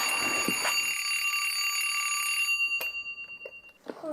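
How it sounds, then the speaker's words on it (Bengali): A loud, continuous electronic alarm clock rings steadily at close range, then cuts off with a few clicks and light handling noises as it is switched off. "অ্যালার্মটা অফ করি।"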